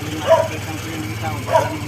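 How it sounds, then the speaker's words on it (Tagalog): A dog gives two short barks about a second apart, moderately distant, over a steady low engine or motor hum outdoors at night. "Tahol pa more."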